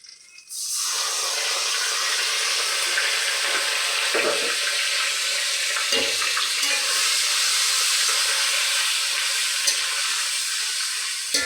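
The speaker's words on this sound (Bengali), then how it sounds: "আদা বাটাটা একটু ভাজা হবে মশলাটা" A sudden burst of loud sizzling erupts as ginger paste hits hot oil, then a steady hissing crackle continues close up, with a few faint clinks.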